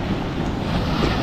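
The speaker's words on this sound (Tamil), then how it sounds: "அலை சூப்பராக வருதுப்பா." Sea waves break on Alappuzha beach in Kerala as a steady, loud roar of surf mixed with heavy wind buffeting the microphone, with no break in the wash of noise.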